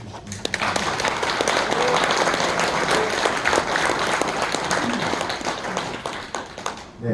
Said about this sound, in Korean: 한 번 더 박수 주시면